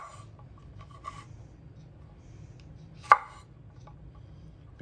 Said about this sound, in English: And then just give these a rough chop